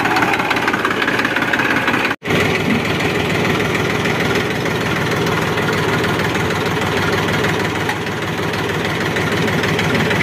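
A Massey Ferguson tractor engine runs steadily and loudly up close, a dense continuous rumble with constant vibration and a brief dropout near the start, with no talk over it.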